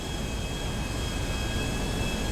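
An airplane in GTA 5 drones steadily and loudly throughout, a continuous broadband engine roar with a faint high whine, no voices over it.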